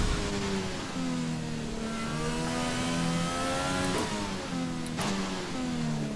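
An F1 car in the racing game F1 2020 revs through a smooth, rising and falling engine whine that is loud and continuous, with no voices.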